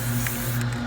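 WD-40 aerosol spray hissing onto an old, faded car headlight, a steady close hiss lasting just under a second over a low background hum.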